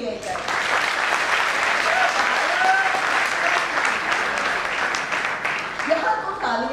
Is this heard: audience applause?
yes